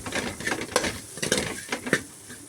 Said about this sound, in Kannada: ಅದನ್ನು ಹಾಕ್ಕೊಂಡು ನಾನು ಚೆನ್ನಾಗಿ ಮಿಕ್ಸ್ ಮಾಡ್ಕೊಳ್ತಾ ಇದ್ದೀನಿ